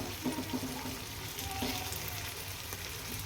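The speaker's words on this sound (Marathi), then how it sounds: "परत व्यवस्थित मिक्स करायचा मसाला आणि टोमॅटो पण चांगला शिजलेला आहे" Masala and tomatoes sizzle in hot oil as they are stirred for a dhaba-style akkha masoor dal, a steady close frying hiss with occasional light scrapes and clinks of the spoon.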